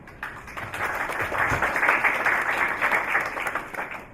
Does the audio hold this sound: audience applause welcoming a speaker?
yes